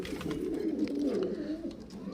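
Highflyer pigeons, including a madaj mada pigeon, coo in soft, repeated throaty bursts close by, one low rolling call after another.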